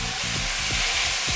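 Beef sizzles loudly in vegetable oil in a pot, a dense continuous frying hiss with faint periodic stirring scrapes underneath, close and unbroken.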